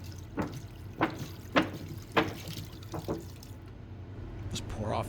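Distilled water is poured during the rinse of a silver refining cell, heard as a series of short splashing bursts at a fairly even rhythm, close by and moderately loud.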